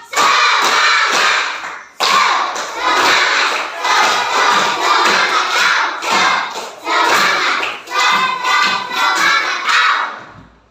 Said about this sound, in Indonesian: Tiga kali tepuk semangat.